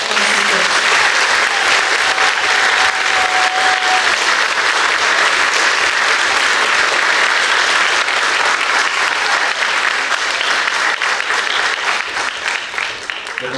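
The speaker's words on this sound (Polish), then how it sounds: "Jeszcze raz proszę Państwa o ogromne brawa." Loud, sustained audience applause after a youth talent concert, a thick, continuous roar of many clapping hands holding strong for over ten seconds before easing slightly at the end.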